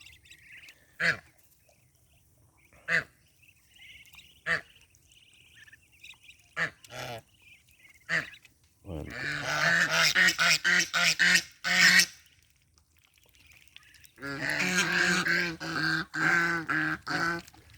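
Muscovy ducks give scattered hoarse honks at first, then break into dense bursts of loud overlapping calling from a nearby flock, with brief pauses between bursts.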